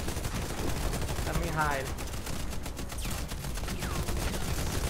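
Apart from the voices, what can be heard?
gunfire from a video game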